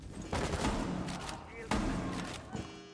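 Rapid gunfire in a Rainbow Six Siege match, dense bursts of loud shots in quick succession with thuds, mixed with talk.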